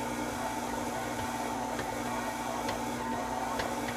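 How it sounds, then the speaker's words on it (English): A stand mixer kneads baguette dough, its motor humming steadily and loud throughout, with faint periodic ticks as the hook labors against the dough in the bowl; no talk. "My mixer's starting to struggle."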